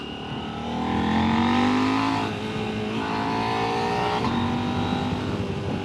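A KTM 890 Adventure motorcycle engine revs up and falls back as the throttle closes, a steady near drone with rising and falling pitch and a rough, crackly edge on the overrun.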